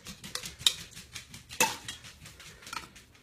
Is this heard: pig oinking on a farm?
no